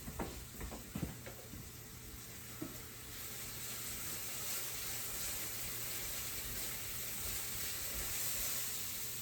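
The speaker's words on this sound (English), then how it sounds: "Let me stir my mushrooms real quick." Mushrooms stirred in a pan as a side dish for chicken Florentine, with a few scraping utensil strokes at the start, then a steady close sizzle and hiss of frying that runs on alone.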